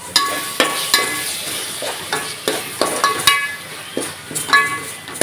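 Green chili and garlic paste sizzles in a hot pan while a spoon stirs and scrapes it in repeated sharp strokes, the frying close and moderately loud with a faint voice in the background.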